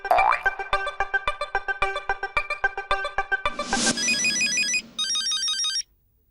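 An outgoing phone call plays a rapid run of bright, bouncy ringback tones. A higher electronic jingle follows, then the ringing stops abruptly, with no voices over it.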